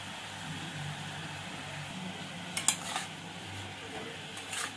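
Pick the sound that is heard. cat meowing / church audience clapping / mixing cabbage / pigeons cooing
mixing cabbage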